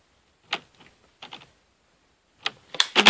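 A craft cutter blade presses marks into soft polymer clay, a few short separated scrapes and taps up close, with busier clicking contact toward the end.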